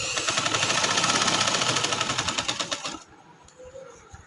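Sewing machine stitching fabric for a frilled bed sheet, a rapid even mechanical chatter running for about three seconds, then stopping into quiet room noise with faint handling sounds.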